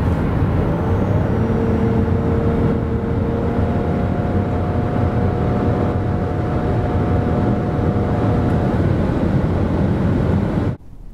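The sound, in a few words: Nissan X-Trail e-Power accelerating from 90 to 140 km/h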